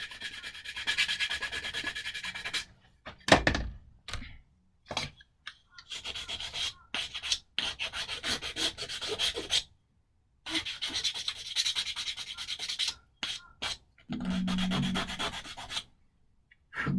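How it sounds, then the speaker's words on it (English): Hand sanding of a mounted part for a stunt model aircraft, with long steady abrasive rubbing strokes in several bursts separated by short pauses, close and moderately loud. "Sand it up."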